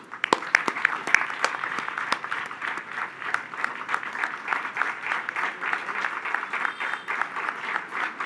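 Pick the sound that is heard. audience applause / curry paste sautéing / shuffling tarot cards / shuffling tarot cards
audience applause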